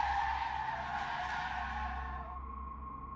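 A car brakes hard on a road, tires squealing in a long, high skid that fades out toward the end, with no talk over it.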